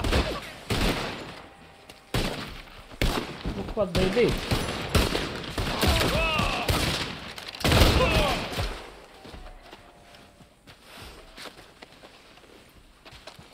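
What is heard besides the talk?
gunfire in a video game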